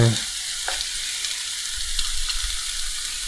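Omelette frying over fairly high heat in a hot pan, a steady soft sizzle and crackle running throughout with faint stirring or scraping touches.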